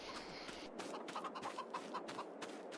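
Chickens cluck in Farming Simulator 22, a steady run of short, close clucks over a constant farmyard background with no talking.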